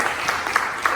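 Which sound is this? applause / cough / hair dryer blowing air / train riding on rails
applause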